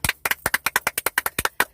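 About fourteen quick hand claps ring out in a brisk, even rhythm, crisp and close, with no talking.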